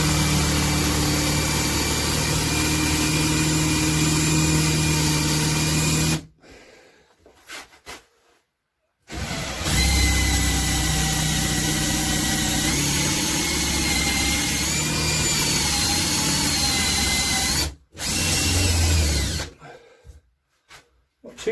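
Power drill boring into the metal of an old rusty bill hook, running in long steady whining bursts separated by short pauses and one longer gap, loud and close, with no talk over it.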